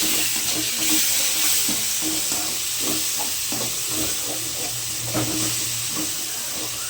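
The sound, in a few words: ginger garlic paste being stirred and fried in a pan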